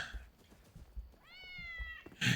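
In the video game Enshrouded, a single clear cat meow rises and falls near the end, over soft footsteps and low background noise.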